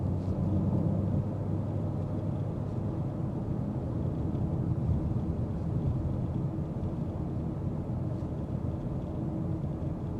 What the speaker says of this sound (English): we put everything into comfort and efficiency so you can really hear that road noise